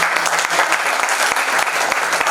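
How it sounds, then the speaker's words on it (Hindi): Loud audience applause welcoming the actors of a stage play as they are introduced, a vigorous, dense clapping with sharp individual claps standing out close by. "एक बार जोरदार ताली स्वागत करिए।"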